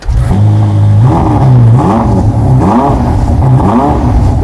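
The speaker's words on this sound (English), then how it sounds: "our SF90 might be a hybrid, but she still has that 4-litre twin turbocharged V8 resting really deep in her bosom" A stock Ferrari SF90 hybrid's 4-litre twin-turbocharged V8 revs loud and close, its engine note climbing and falling in repeated sweeps with no pauses and no talking.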